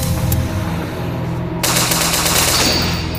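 Rapid gunfire in a Momo horror video game, a loud, dense burst of close shots rattling continuously for a few seconds with no voice over it.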